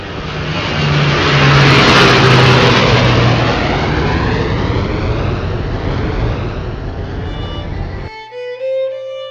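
A loud engine roar swells and rushes past like an aircraft flying over, then cuts abruptly into a short musical sting.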